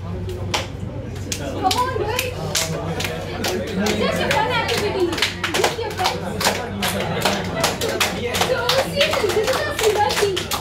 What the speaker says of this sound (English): So just interconnect it and clap your hands.